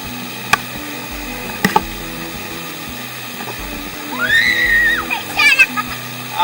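Swimmers splash and slosh in the water beneath a Maui waterfall, with irregular close splashes over a steady rushing wash, while voices chatter and call out nearby.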